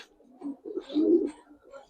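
Pet pigeons, a pair of coloured fancy birds, cooing in soft low bursts from close by, with a pause between calls and quiet human sounds underneath.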